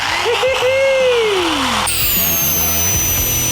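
A Restorer power tool works over charred wood. Its motor whines and swoops downward in pitch, then shifts to a higher, steadier whine with scraping texture, close and fairly loud.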